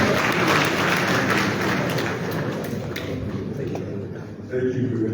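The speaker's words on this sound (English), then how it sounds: "Let's get a round of applause." Audience applause at a meeting of West African central bank governors in Liberia, steady dense clapping that thins toward the end, with a voice starting to speak under it.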